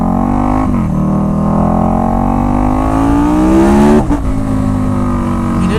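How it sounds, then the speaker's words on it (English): A motorbike exhaust revs hard and loud, its engine note climbing steadily over several seconds before a sharp blip and drop, then settling back into a rising roar, close and with no talking. "this exhaust on this bike does that."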